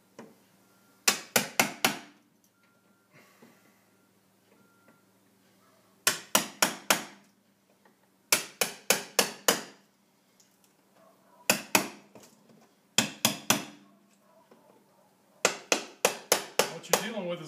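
Drywall above a window frame is knocked out in quick bursts of sharp, repeated hammer-like blows, several rapid strikes per burst with short pauses between, close and fairly loud.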